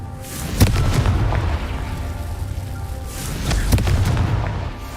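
A Confringo explosion spell cast in Hogwarts Legacy during the Merlin trials: two loud, deep booms about three seconds apart, each trailing into a long rumbling roar.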